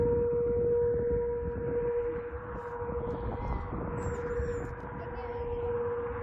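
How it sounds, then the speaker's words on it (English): Tornado sirens sounding in a noontime test in rural Kansas, a steady distant wail holding one tone, heard faintly from afar over a rumbling outdoor background with no one speaking. "A noontime test of the tornado sirens going on"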